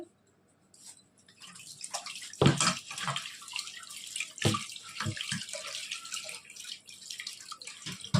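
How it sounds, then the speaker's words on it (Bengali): Water poured from a tap or vessel onto mashed lentils (dal) in a pot: a steady close splashing and trickling stream with a few brief gurgles, continuing throughout at moderate level. "আন্দাজ মতো জলটা দিয়ে দিলাম"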